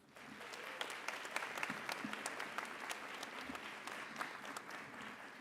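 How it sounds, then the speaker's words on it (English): Final round of applause from graduates at a college commencement ceremony, steady dense clapping throughout, moderately distant and even in level with a few louder claps. "Graduates, please give one final round of applause for all these people who have supported you"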